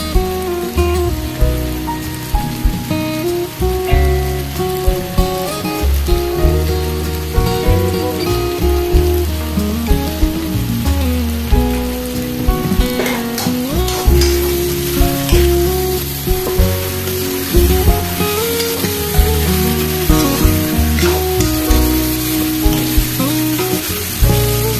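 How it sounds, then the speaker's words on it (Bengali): Village-style desi chicken curry sautéing in a pan, a steady loud sizzle and crackle of frying with occasional stirring, running continuously under background music. "সব ভালো করে একটু কষিয়ে নিচ্ছি।"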